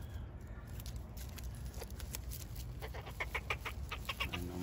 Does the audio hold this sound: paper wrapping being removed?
no